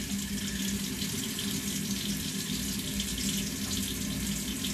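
Water rushing steadily through a drain pipe during a flush, a constant loud hissing flow that holds without a break, close by and with no voices.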